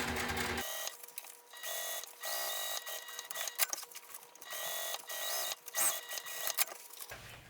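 A sewing machine stitches a fabric pouch in short, uneven bursts with brief stops between runs, close and fairly loud with no talking.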